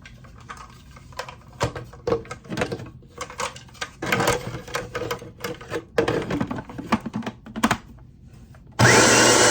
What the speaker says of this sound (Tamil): இப்போ மாவை ஃபுட் ப்ரெஷரில் போட்டு புட்டு வெட்ட போகிறேன்